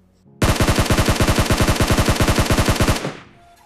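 A sustained burst of rapid automatic gunfire from a mobile battle royale game, about two and a half seconds of steady evenly spaced loud shots that stop abruptly with a short fading tail.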